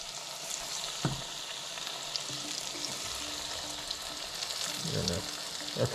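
Fish pieces fry in hot oil with a continuous, close sizzle that swells briefly near the end, with faint background sounds mixed in.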